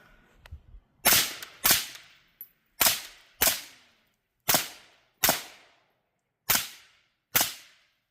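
A gas-powered Energetic Armament Ferox airsoft rifle fires about nine sharp, close, loud single shots at irregular intervals, each cracking out and decaying quickly into silence.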